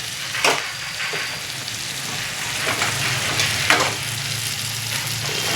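Chilli powder and poppy seeds fry in a hot pan with a steady, close sizzle and a few brief stirring scrapes throughout, with no talking.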